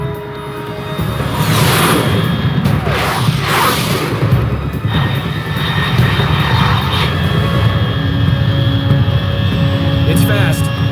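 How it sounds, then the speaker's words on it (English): Jet aircraft engine roaring in flight in a video game, a loud steady drone with rising and falling swells throughout, with speech-like sounds over it. "Unidentified aircraft detected."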